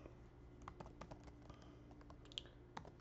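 Quiet typing on a computer keyboard, a steady run of soft keystrokes with a few sharper clicks standing out.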